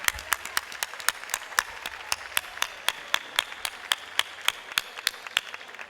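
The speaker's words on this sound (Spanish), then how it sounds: "vamos a darle un fuerte aplauso a esta gente de atrás" At the Gorka 2019 awards ceremony, the crowd claps in steady unison, sharp evenly spaced beats at roughly three to four per second over a quiet background.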